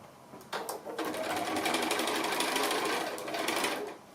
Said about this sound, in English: So I'm just going to stitch close to this edge here.